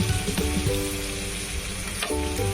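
Eggplant slices sizzle steadily in hot oil in a pan, a dense continuous frying crackle that stays close and fairly loud throughout, with a few brief louder pops.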